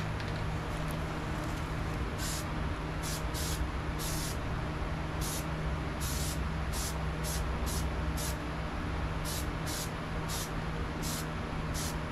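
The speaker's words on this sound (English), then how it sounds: "Loctite spray adhesive, and you just spray it about 12 inches or so away from the target" Loctite spray adhesive hisses steadily from a can held about a foot from the target while making Halloween spiderweb decorations, a continuous close broadband spray lasting the whole stretch with faint brief ticks on top.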